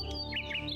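A bird calls at night in a village near a bamboo grove, giving a short run of two or three clear, rising chirped notes, fairly close and alone.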